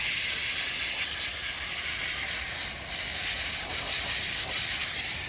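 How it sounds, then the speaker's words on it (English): A standard garden hose nozzle sprays water steadily across an air conditioning coil, giving a continuous hissing rinse that stays even for several seconds, close and alone with no voices. "we're just going to go around with this standard hose nozzle and rinse it all away"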